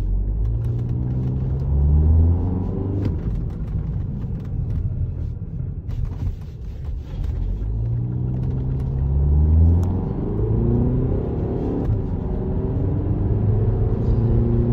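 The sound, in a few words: VW Passat Alltrack 2l diesel engine accelerating while driving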